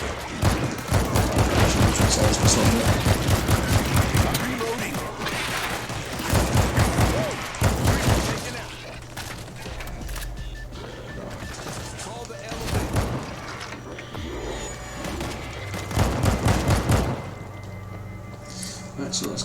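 Rapid bursts of gunfire blast against hordes of zombies in World War Z, set in New York, coming in loud repeated volleys with brief lulls between, while someone talks over the shooting.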